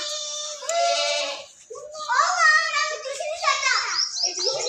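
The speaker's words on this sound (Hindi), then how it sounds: "ये 7 नंबर बकरा है।" A goat brought out for sacrifice bleats in long wavering calls, close and loud, with children's voices mixing in around the cries.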